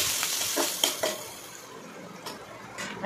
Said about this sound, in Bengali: এই পেঁয়াজগুলোর মধ্যে আমি হালকা নুন দিয়ে একটু লাল লাল করে ভেজে নেব।